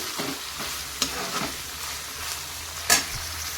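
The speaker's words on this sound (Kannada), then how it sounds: "ಈಗ ಇದನ್ನು ಚೆನ್ನಾಗಿ ನಾವು ಫ್ರೈ ಮಾಡಬೇಕಾಗತ್ತೆ" Cabbage sizzling and frying in a pan, with a few sharp scraping stirs of a utensil; no voices.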